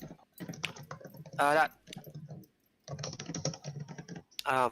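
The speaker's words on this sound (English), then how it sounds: "Your keyboard's a little Little loud." Quick bursts of typing on a loud computer keyboard, clicky keystrokes clustered in short runs while people talk over them.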